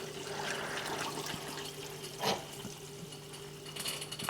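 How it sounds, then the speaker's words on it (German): Water pumped up from a cellar refills a discus aquarium with prepared, tempered water, a steady faint flowing and trickling wash with a low hum and a brief louder splash midway. "Jetzt wird die Wasserpumpe angemacht und jetzt werden wir automatisch aus dem Keller unser vorbereitetes und temperiertes Wasser wieder nachfüllen."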